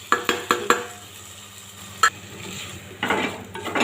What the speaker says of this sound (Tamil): இப்போ மல்லித்தூள், மிளகாத்தூள், வீட்டுக்கு மிளகாத்தூள், மஞ்சத்தூள் 3ஐயும் போட்டு சேர்த்து வணக்கலாம்